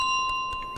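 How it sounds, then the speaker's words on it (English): Bell from Untitled Goose Game, a video game: a clear bright ring with a sustained tone that rings on and slowly fades, heard alone. "It is my bell."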